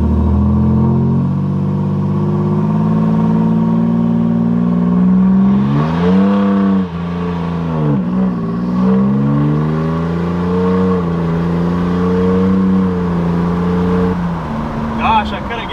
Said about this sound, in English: we're gonna do somewhat of a 0 to 60 here